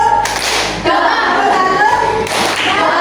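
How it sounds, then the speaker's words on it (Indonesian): A group of people clap their hands once together in a classroom clapping game, with a sharp burst of clapping standing out over a busy, noisy room. "Tepuk satu. Tepuk satu. Tepuk satu."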